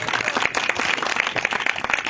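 Church congregation clapping together, a steady rhythmic patter of many hands that fills the room at a lively, even tempo.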